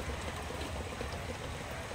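Steady water from a continuous irrigation system in a lettuce garden, a constant trickling and dripping wash with no pauses, fairly faint and even throughout.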